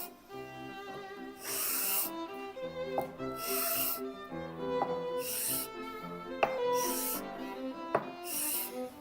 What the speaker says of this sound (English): So to do this, I use one of my homemade broaches.